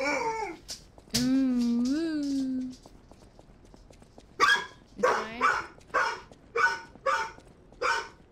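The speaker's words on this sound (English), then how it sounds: "Rogue Lupin is barking." A dog in the video game Lies of P barks in a run of sharp, evenly spaced barks after an earlier drawn-out whine or howl; the sound is close and loud.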